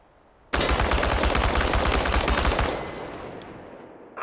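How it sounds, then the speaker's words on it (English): Full-auto gunfire in the Chernobylite video game, one loud unbroken burst of rapid shots emptying a magazine, then a fading echoing tail. "exercise is about using full auto mode and emptying an entire magazine in one burst"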